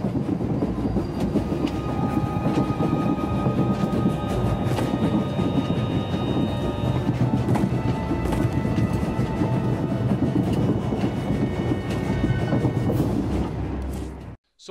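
A moving train from the Crisis of Umbara video game teaser trailer rumbles heavily and continuously with rhythmic clacking and metallic squeals, loud and close, cutting off abruptly at the end.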